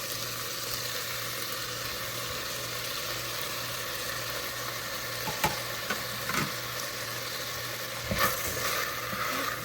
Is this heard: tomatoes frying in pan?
yes